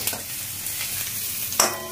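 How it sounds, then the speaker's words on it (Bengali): Onions frying in a pan alongside chicken, a steady soft sizzle with a few light stirring scrapes and one sharper clink near the end. "এই যে পেঁয়াজ অলরেডি ভাজা শুরু হয়ে গেছে আমার।"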